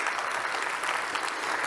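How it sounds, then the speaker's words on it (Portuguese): Applause for a group of girls at a church event on disability, dense continuous clapping from a crowd, loud and even for its whole length with no talk over it. "uma salva de palmas para as meninas"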